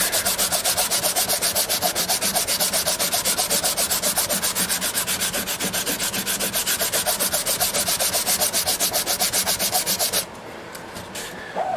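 Sandpaper rubs back and forth across the wooden body of a custom 12-string dreadnought guitar in quick, even strokes, close and steady for about ten seconds before stopping abruptly, with no voices.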